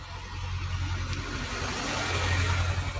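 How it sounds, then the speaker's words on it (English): A car idles and revs up right alongside on Cathedral Street in Sydney, its engine drone rising steadily and close over a wide bed of street noise. "I was standing right next to a car with their window open"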